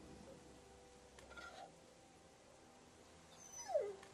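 A dog in the Walking Dead Season 2 video game whimpers and yips near the end. The sound is brief and rising, over a quiet game background with a faint hum.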